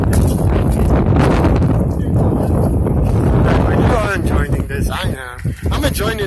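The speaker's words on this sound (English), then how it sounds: "The wind is a little nippy. Because we're on the bridge." Gusty wind buffets the microphone on a bridge on a chilly winter day, a steady broadband roar that persists throughout while people talk over it.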